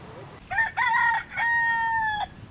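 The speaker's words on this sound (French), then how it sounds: "C'est un coq." A rooster on a Kauai beach crows loudly and close, one full cock-a-doodle-doo broken into several rising and held notes, with no voices over it.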